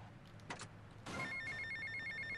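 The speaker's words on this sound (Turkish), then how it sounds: "Ha telefon geldi." A telephone rings in GTA Vice City, a couple of brief electronic trills followed by a sustained warbling ring tone, faint and alone over a low background hum.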